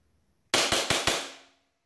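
Four rapid, sharp shots from a Hi-Capa airsoft pistol running on an HPA system with a single regulated CO2 source, firing 0.25 gram BBs; the shots are close and loud, with a short ringing tail after the last.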